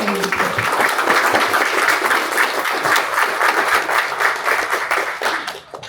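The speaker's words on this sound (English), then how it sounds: "Give yourself a round of applause." A crowd breaks into loud, steady applause, many hands clapping continuously before it tapers off at the end.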